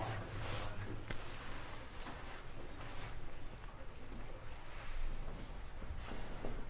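Pen scratching across paper while a maths solution is written out, a continuous soft scratchy texture with small taps, close and quiet, no talking.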